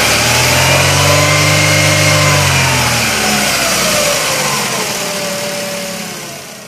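Engine of a 2011 Chevrolet Aveo revving up and then easing off, a loud close whine and drone with tones that climb before settling lower and fading.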